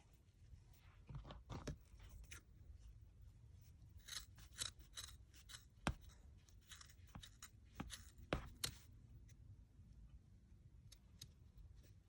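Scissors trimming the ends of yarn tassels, giving a string of sharp, close snips that come in irregular clusters against a quiet background.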